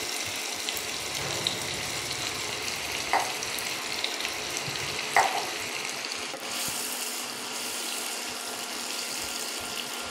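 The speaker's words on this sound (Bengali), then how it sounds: "তেলটা গরম হয়ে গেছে, পেঁয়াজটা দিয়ে দিলাম" Sliced onions hit hot oil in a home kitchen pan while chicken korma is being made, giving a steady, close sizzle with a couple of brief clicks and no talking.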